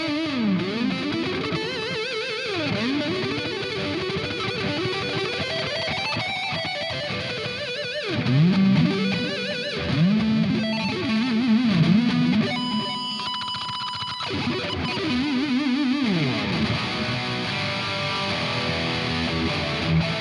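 Distorted electric guitar lead through a Leo Jaymz Silverbox multi-effects pedal, soaked in reverb and delay, playing fast shredding runs and bends with long echoing tails, steady and loud with no talking.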